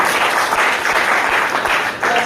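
Loud, dense applause from an audience at a company profile presentation for IMC, steady clapping filling the whole stretch without a break.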